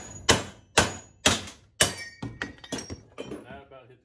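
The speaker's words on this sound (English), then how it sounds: "Take the hammer" A hammer striking a sickle bar knife clamped in a vise, four sharp ringing metallic blows at a steady pace followed by several lighter, quicker taps, close up, with a voice partly mixed in.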